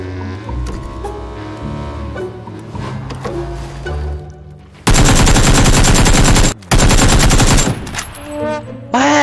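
Gunfire in PUBG, beginning with scattered shots and clatter, then two long loud bursts of rapid automatic fire split by a brief gap, ending in quieter trailing sounds.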